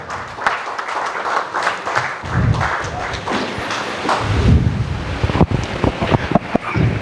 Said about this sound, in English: A huge round of applause, everybody, for our Principal, sir.